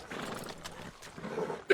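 Horse hooves clip-clopping in the Red Dead video game, a steady run of quick hoof beats at moderate level with a horse's whinny mixed in, under faint speech.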